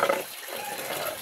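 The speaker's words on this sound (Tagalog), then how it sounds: "Hugasan ako iyang plato." Tap water runs steadily into a sink while a dog's food plate is washed, a continuous hiss and splash close by with no talk.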